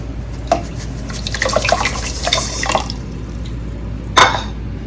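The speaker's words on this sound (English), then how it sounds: "So as soon as it stops dripping, you're going to take that away, and we have our tea." Brewed tea drips from mashed tea leaves in a kombucha preparation: a loose run of close, crisp drops and trickles, with a cluster in the middle and one louder drop near the end.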